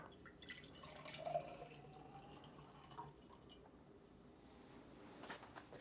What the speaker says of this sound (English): So first of all, we're going to fill this with water.